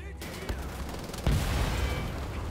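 Gunfire in Wolfenstein: The Old Blood starts as scattered shots, then a heavy burst or blast hits and leaves a dense, rumbling barrage of fire.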